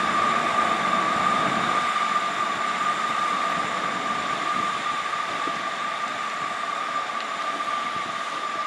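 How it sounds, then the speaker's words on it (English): A Class 159 diesel train pulls out of Exeter St David's station, a steady loud engine drone with a sustained tonal whine and rumbling wheels, continuous throughout and no voices. "Also departing is the 1042 terminating service off to the Exeter New Yard, 159016"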